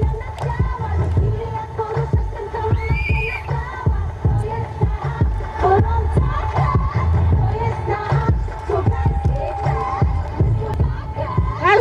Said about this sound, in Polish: Zaliczone, wielkie brawa.